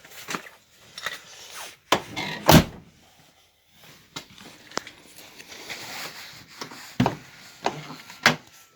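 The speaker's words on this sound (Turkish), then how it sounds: "Bakınız görmüş olduğunuz gibi kapı açıldı." Several sharp clunks and latch clicks sound close by, with a loud thud in the middle and more mechanical knocks afterward, as an Opel Astra G door with a child lock is opened.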